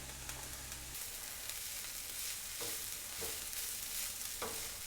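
Onion sizzling in a pan for a spinach lasagna, a steady soft frying hiss with occasional stirring scrapes and clicks, moderately close and alone.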